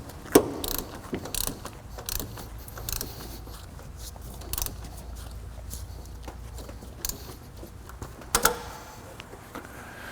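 A ratchet tightens the alternator bolt on a 2003 Nissan 2.5L engine during a water pump replacement, giving clustered close clicks and mechanical rattles with quieter gaps between bursts and no speech.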